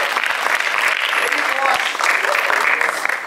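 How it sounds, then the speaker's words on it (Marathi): An audience at a Marathi film trailer launch bursts into strong applause, close and continuous for several seconds, with a voice speaking through it. "क्षितिजच्या इंग्रजीसाठी जोरदार टाळ्या व्हायला."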